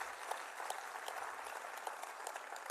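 Faint, distant applause from a conference assembly, a continuous wash of many hands clapping at low level throughout.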